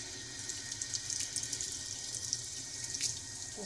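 Lukewarm water pours steadily from a tap into a sink for puppies' first bath, a close, continuous splashing hiss with no talking.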